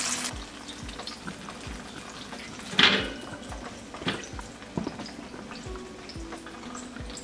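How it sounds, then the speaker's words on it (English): Steady crackling sizzle of chicken frying in hot oil, with a brief louder burst of spatter and a few faint clinks around it. "I'll continue frying the rest of my chicken"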